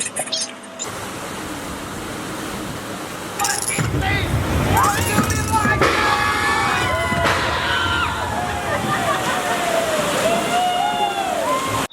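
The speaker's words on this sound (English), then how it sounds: "We are riding the Calico River Rapids." Water rushing and sloshing around a raft on the Calico River Rapids ride at Knott's Berry Farm, loud and continuous, with voices shouting and talking over the splashing.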